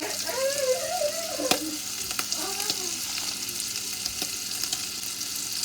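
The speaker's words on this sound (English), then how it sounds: "So I'm just putting some of that in and stirring it in" A soy sauce dish sizzles continuously in a pan as white sugar is stirred in, with occasional soft clinks of the utensil. Light background noise and faint tonal sounds sit under the steady frying.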